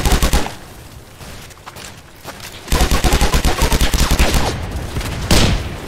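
Gunfire in a D-Day video game, with loud rapid bursts of automatic fire and dense volleys that rise and fall over several seconds, close and unbroken, with no one talking.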